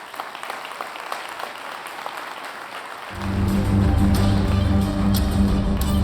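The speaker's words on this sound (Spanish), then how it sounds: "Fuerte aplauso para Luis Piñeiro" Audience clapping to welcome a speaker at an economics talk, scattered and fairly light at first, then joined by a loud low rumbling swell of music or amplified sound about halfway through.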